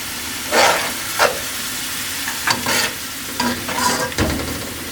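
Ginger and yogurt drop into the frying tomato and chili base for chana pulao, making a steady sizzle under repeated scraping stirs and short bursts of spluttering.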